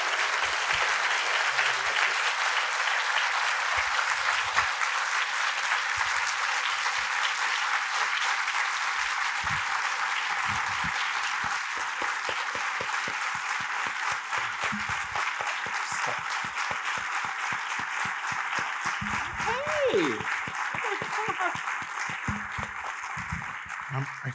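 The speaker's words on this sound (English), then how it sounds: "please join me in a round of applause for Steve Locke." An audience at an art school talk claps in sustained, loud applause that holds steady for the whole stretch, dense and close, with scattered louder individual claps and a brief voice near the end.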